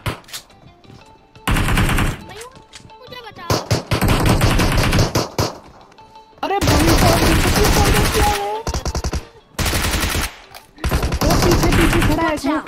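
Video game gunfire: repeated shotgun blasts and bursts of rapid automatic fire in a multiplayer match, loud and clustered in several volleys with brief gaps, while players talk over the action.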